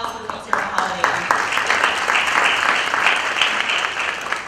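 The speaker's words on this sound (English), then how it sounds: "Let's give a quick round of applause for folks here at Holiday Inn." An audience at a nonprofit awards luncheon at a Holiday Inn breaks into applause, dense clapping that swells quickly and stays steady for several seconds, with a voice faintly heard at the start.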